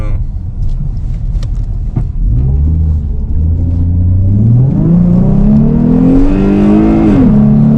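Car engine at a Manheim used-car auction in the US, idling with a deep rumble and then revving up and down in rising and falling swells, loud and close, with people talking.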